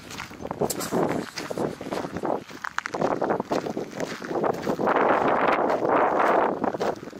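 Gusty wind on a hilltop buffets the microphone in uneven bursts, loud and rumbling, with some rustling and movement noise underneath.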